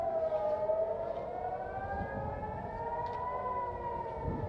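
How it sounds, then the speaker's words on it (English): A distant siren wails steadily with a slowly wavering pitch, faint against a low background rumble. "Oh, you hear a siren?"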